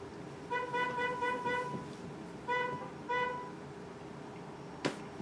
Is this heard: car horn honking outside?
yes